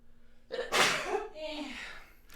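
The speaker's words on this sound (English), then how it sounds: "I had to sneeze." A single sharp sneeze bursts out, preceded by a quick inhale and followed by a trailing exhale, close and loud.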